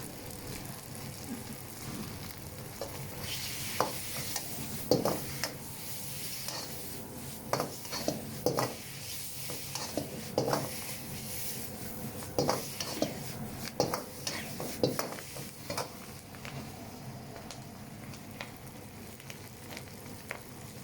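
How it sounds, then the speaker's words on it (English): Beef pad see yew noodles with spring greens are stirred and tossed in a wok, giving irregular metallic scrapes and clanks of the utensil against the pan over a low sizzle, with no talk. "It's a fine line between wok hei and burning the noodles, so just keep an eye on it."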